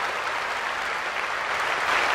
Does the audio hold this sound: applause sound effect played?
yes